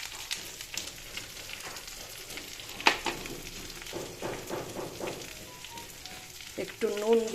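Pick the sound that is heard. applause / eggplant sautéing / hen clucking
eggplant sautéing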